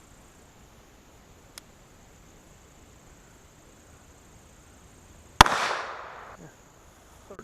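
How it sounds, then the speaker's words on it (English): A single sharp, loud gunshot from a .45 ACP Super pistol loaded with Bullseye powder, cracking out after a quiet stretch with a faint click before it and a short decaying echo afterward. "Let's go ahead and run one more round."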